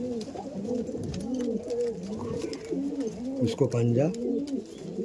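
Chocolate dum female pigeon cooing repeatedly in soft rolling phrases close by, with someone talking over much of it.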